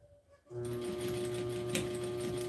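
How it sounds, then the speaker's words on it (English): A sewing machine runs a continuous straight stitch along a garment neckline, starting abruptly after a quiet moment and then holding a steady, close mechanical whir with a constant motor hum. "I don't mind doing a straight stitch right now because I am going in a straight line right along this neckline."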